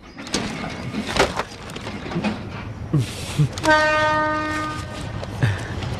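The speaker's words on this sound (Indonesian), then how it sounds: "Wah, keretanya sudah datang." A cartoon train pulls in with rhythmic clanking wheels and several short bursts, then a long sustained multi-tone horn blast, loud and close, with no voices.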